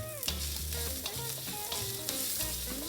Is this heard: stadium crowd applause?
no